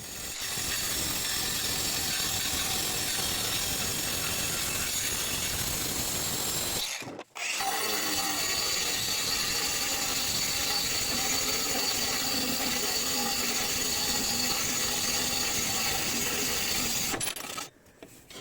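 A Leader budget cordless angle grinder with an old cheap disc cuts porcelain tile in a harsh, steady grinding rasp, pausing briefly partway through and then resuming before it stops, loud and close.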